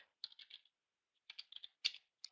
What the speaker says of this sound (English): So you could start typing code here.